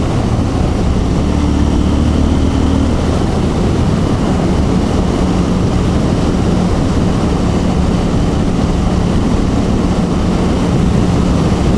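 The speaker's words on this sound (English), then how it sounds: "this is sixth gear and it's just pulling up this hill really well" A KTM 790 motorcycle engine pulls uphill in sixth gear, giving a loud, steady drone with a low rumble under heavy wind buffeting, unbroken and continuous throughout.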